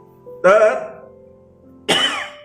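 A person coughs twice, two loud harsh bursts roughly a second and a half apart, close to the microphone over a faint steady background hum.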